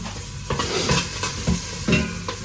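Food sautés in a pan with a lively sizzle, broken by repeated scraping and clattering stirs at an uneven rhythm. The sound is close and moderately loud, with no voices.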